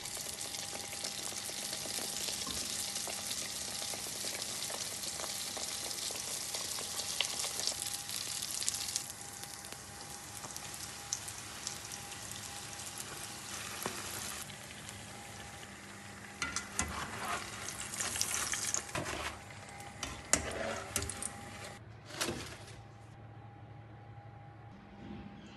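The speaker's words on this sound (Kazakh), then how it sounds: "Және де қызып тұрған майға қуырып аламыз." Baursak dough frying in hot oil, a steady close sizzle and crackle lasting throughout, with occasional louder bursts and stirring clatter as pieces are added and turned.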